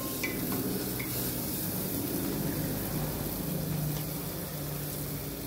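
Tomato sautés in a pan with a steady, even sizzle, with a couple of light stirring clicks near the start.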